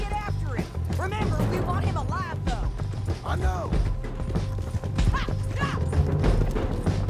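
Horse hooves clopping in the video game Red Dead Redemption 2, mixed with whinnies, thuds and game sound effects, while players talk over it.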